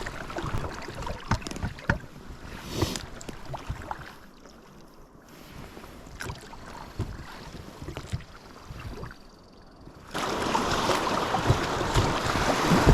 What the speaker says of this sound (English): we're gonna get back in the boats here and drift down to the next hole